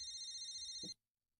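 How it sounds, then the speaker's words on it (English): Cell phone beeping for a text message in Katawa Shoujo: a sustained, bright electronic tone with stacked harmonics that ends abruptly with a short click, followed by silence. "A beeping noise suddenly emanates from Mrs. Ibarasagi's pocket."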